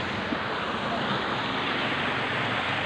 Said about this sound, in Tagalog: lumakas yung ragasan ng tubig, tsaka lumalim.